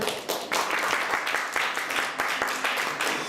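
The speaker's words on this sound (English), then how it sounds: "how about a round of applause for the candidates here?" An audience at a political candidate forum claps for the candidates, a short burst of brisk, moderately loud applause from a modest crowd, heard alone without talk.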